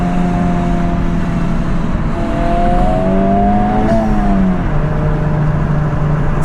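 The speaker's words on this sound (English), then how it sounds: "Turbo noises." Turbocharged engine of a Honda Civic Type R FL5 with a Spoon part, a loud, continuous in-cabin drone whose pitch climbs, dips and settles over several seconds, with faint whooshing turbo noise on top.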